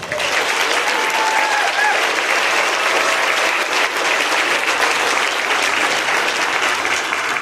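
An outdoor crowd at a Buc-ee's groundbreaking in Benton, Arkansas applauds the town's mayor with loud, continuous clapping and some cheering voices throughout.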